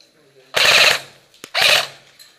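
Airsoft gunfire in an outdoor field among rocks: two loud, close bursts of rapid rattling shots about a second apart, each ending abruptly, with a brief sharp crack between them.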